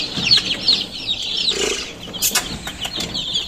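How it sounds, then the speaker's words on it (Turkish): High, thin peeping from many chicks chirps continuously and close by, with soft rustling and faint clucking underneath. "Burada da civcivlerimiz var."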